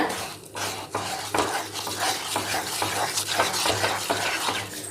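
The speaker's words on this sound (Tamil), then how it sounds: "நல்லா கரண்டி வச்சு கட்டி இல்லாம நல்லா கலந்துக்கோங்க" A spoon scrapes and clinks steadily around a bowl as thick rice flour batter is mixed for halwa, close up and continuous, with no voices.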